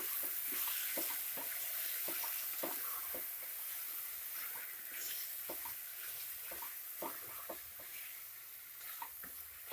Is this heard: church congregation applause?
no